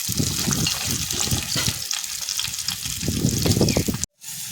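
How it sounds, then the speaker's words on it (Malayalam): Small onions (shallots) and salt, with curry leaves, are sautéed in a pan, giving a loud, close, continuous sizzle and frying crackle with stirring scrapes, then an abrupt cut near the end. "ഇതിലേക്ക് ഞാൻ ഉപ്പിടുന്നുണ്ട്. ഇതൊന്ന് നന്നായി വഴറ്റിയെടുക്കാം."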